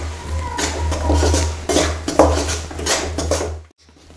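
A spoon scrapes and clinks against a pan while mawa and sugar are stirred into melted ghee, with repeated metallic scraping strokes over a steady low hum, ending in near silence.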